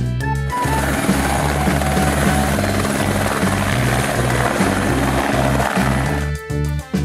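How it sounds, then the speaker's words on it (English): Loud, close toy helicopter sound: rotor thumping with a steady rapid chop and engine whine, continuous for about six seconds before cutting off. "Helicopter."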